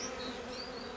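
Honeybees drone steadily at an open hive during an inspection, a soft, close, continuous buzz with faint higher whines drifting through, no voices.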